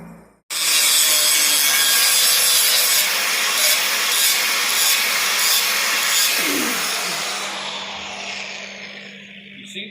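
An angle grinder run with no guard fitted, working on a homemade fifth-wheel wrecker, gives a loud, steady, broadband abrasive rasp for about nine seconds before tapering off, close to the listener.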